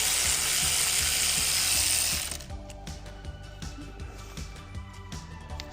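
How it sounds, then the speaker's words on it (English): A ratchet wrench tightening a clamp on a mini bike, a rapid series of close, crisp clicks following a brief loud noise burst at the start. "Turn the ratchet the right way."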